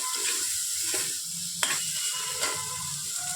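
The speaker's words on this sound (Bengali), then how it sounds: "মাছগুলো দিয়ে এরকমভাবেই কষাতে হবে" Dried fish sizzles as it is sautéed in spice masala in a pan, with a soft continuous fry broken by clanking stirs and scrapes of the spatula, close up.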